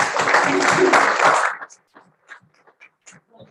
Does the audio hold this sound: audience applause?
yes